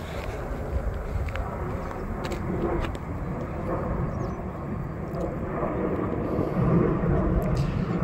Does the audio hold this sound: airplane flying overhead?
yes